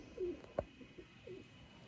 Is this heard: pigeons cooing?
yes